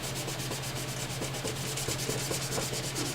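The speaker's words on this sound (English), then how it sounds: "So you just go right over the whole entire fretboard, man. It cleans it up really nice." Abrasive cleaning compound being rubbed along a guitar fretboard, a steady close scrubbing rasp with fast repeated strokes and a faint low hum underneath, no speech.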